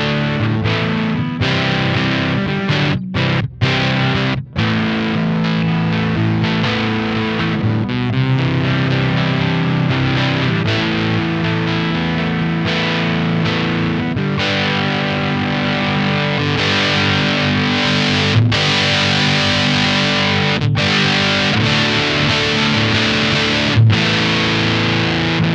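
An electric guitar plays through an MXR Mini Fuzz Face pedal with the fuzz turned near maximum, giving thick, saturated sustained chords and riffs with a few brief breaks, loud and close.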